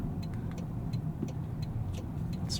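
A 2023 Toyota Corolla Hybrid XLE with a 1.8 liter engine accelerates, heard from inside as a steady low engine drone and road rumble at a constant level, with no talk.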